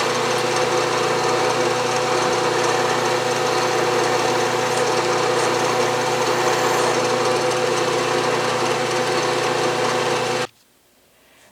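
A drill machine runs steadily while center drilling a part for a Stuart Progress steam engine, a loud droning motor hum with a busy mechanical rattle that stops abruptly near the end, leaving near silence.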